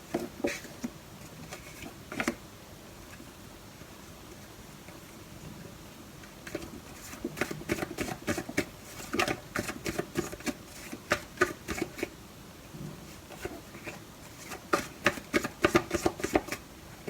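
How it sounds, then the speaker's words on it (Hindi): Tarot cards being shuffled and drawn for a September 2021 Aquarius love reading, heard as soft papery riffles and taps in irregular bursts, growing busier toward the end, with no talking. "ओके, सो यहाँ मैंने 8 कार्ड्स निकाल लिए हैं"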